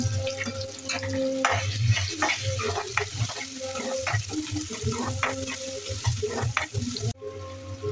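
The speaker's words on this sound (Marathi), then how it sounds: "कांदो लाल होईपर्यंत ढवळल्यान तो मस्त ढवळून घेतला" Onions sizzle and fry in a pan as they are stirred, a constant crackling hiss punctuated by repeated scraping and clinking of a spoon against the pan, close and steady before cutting off near the end.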